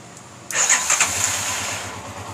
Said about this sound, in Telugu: ఇప్పుడు చూడండి మళ్ళీ అది నేను బండి స్టార్ట్ చేస్తాను